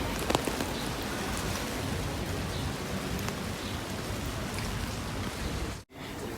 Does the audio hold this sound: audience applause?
no